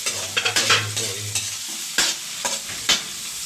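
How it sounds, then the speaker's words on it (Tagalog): Tomatoes cook in a hot pan while a utensil stirs them, with several sharp scraping strokes over a soft sizzle, near and fairly loud, with no speech. "at niluluto ko maigi ang kamatis mga kapares"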